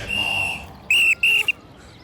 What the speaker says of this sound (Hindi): अरे पिछले सिग्नल से सीटी पे सीटी बजा रहा हूँ